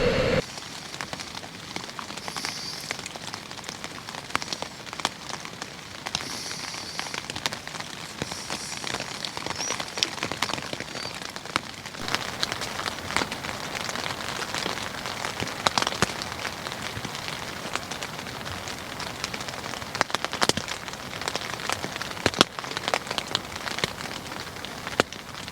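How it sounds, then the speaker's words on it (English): Light rain patters steadily on a Naturehike Cloud Peak 2 tent at night while wild camping at Loch Ard, with soft continuous drops tapping the fabric and no voices throughout. "So I've got a wee bit of light rain to end the night."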